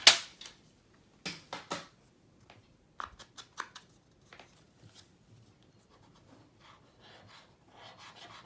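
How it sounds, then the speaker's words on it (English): Paper being trimmed about an eighth of an inch for a recipe mini scrapbook album, heard as a few short scraping, rasping cuts with quiet gaps, close and fairly soft. "I'm going to cut about 1/8 of an inch off"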